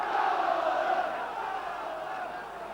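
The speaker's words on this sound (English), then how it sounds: "And reawakened the crowd." A football crowd at an Oldham versus Everton FA Cup fifth-round second replay roars steadily as a broad, sustained wash of massed voices, loud at first and easing slightly over a few seconds.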